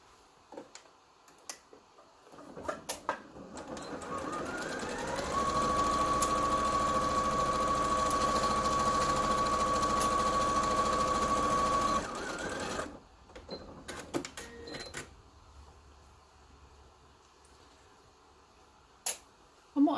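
Sewing machine stitching a Christmas stocking, a steady close mechanical whir lasting several seconds, reversing at the end, with scattered clicks and handling noise before and after.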